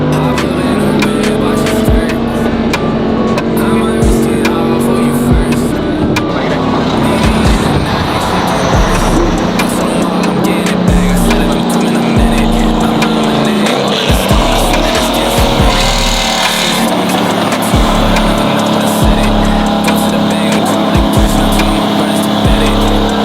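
A heavily modified Ford Mustang roars along the freeway at close range, its engine loud and continuous with revving surges, popping crackles and tire noise throughout.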